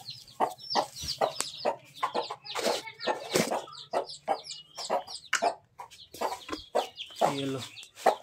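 Three-day-old Aseel chicks peep and cheep in quick, overlapping high calls, close and fairly loud, with a low steady hum beneath and occasional handling noises.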